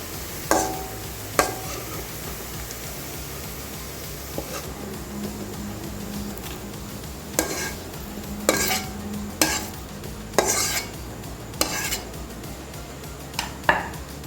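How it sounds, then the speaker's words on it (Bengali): Onions fry in oil to a light golden colour, with a continuous low sizzle. Sharp scrapes and clinks of a spatula stirring against the pan repeat at irregular intervals. "পেঁয়াজটা আমাদের হালকা গোল্ডেন আঁচ করে ভাজা হয়ে গেছে।"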